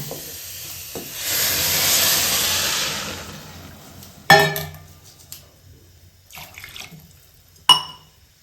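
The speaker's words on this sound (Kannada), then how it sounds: "4 ಗ್ಲಾಸ್ ಅರಿಗೆ ತೊಂದೆ ಬಾಸ್ಮತಿ ಅರಿ ಐಕ್ 7 ಗ್ಲಾಸ್ ನೀರು ಪಾಡೊಂದುಲ್ಲ" Water runs into a pot of basmati rice in a steady hissing stream for a couple of seconds, followed by sharp clanks of the vessel and quieter handling noises.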